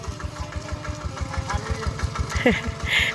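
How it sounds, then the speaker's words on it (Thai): A farm tractor engine runs with a steady low pulsing throb, while a voice briefly sounds near the end. "รถไถพาลุยว่ะ"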